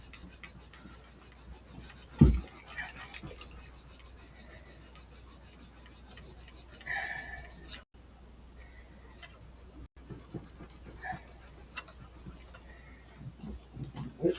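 Wet sanding on the painted body of a Spectrum single-humbucker ST-style electric guitar during a refurbish: a soft, steady rubbing rasp running continuously at close range, with one brief knock near the start and short pauses later.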